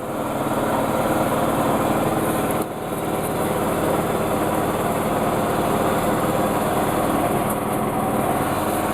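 A lawn mower drones steadily in the background as grass is cut, a constant mid-distance engine hum with no pauses and a brief dip just before the three-second mark.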